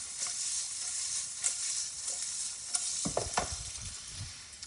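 A little stirring of lemon and roasted zucchini sauce in a pan: a steady bright sizzle with scattered scrapes, then a few louder clacks of the utensil near the end.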